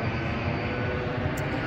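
An airplane passes overhead at night in Montreal, a steady broadband engine roar that stays loud and even throughout, with no talking.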